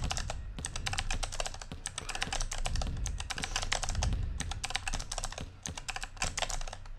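Someone presses the C key on a computer keyboard rapidly and without pause for several seconds, producing dense, sharp clicking close up.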